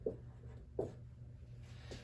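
Pen or pencil strokes scratch across a sheet of paper on a note page, in three soft, brief scribbles spaced apart. They are quiet and close, with a low hum underneath and no talking.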